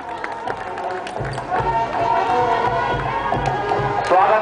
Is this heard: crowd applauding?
yes